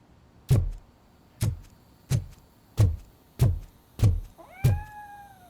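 Grumpy, a video game cat, meows about seven times at a slow, even pace. The calls are clear and close, and the last one is drawn out into a longer, rising wail.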